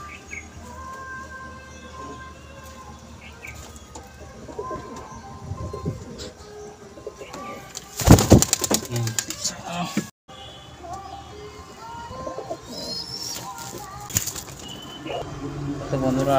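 Pigeons flapping their wings at a home loft selling high-quality birds, with a sudden loud burst of wing flaps in the middle, faint chirps and coos around it, and someone talking throughout.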